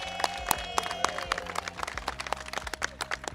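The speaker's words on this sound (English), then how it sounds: "Give yourselves a round of applause." An audience claps at an awards ceremony at Brooklyn Borough Hall, with scattered sharp hand claps over a steady indoor murmur, faint and uneven throughout.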